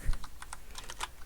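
A short burst of quick keystrokes on a computer keyboard, close and fairly quiet, clicking in an uneven rhythm.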